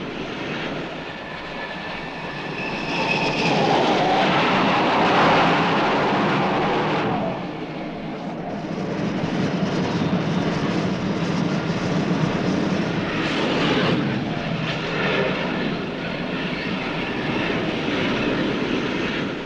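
Jet aircraft launched by catapult from the carrier USS Constellation in the Gulf of Tonkin, a loud sustained engine roar swelling and easing in two long waves with no voices.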